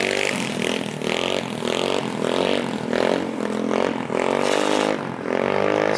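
GY6 150cc scooter engine in a light 50cc frame with a custom exhaust, riding with a loud, raspy drone that rises and falls in repeated revving surges as the rider speeds along.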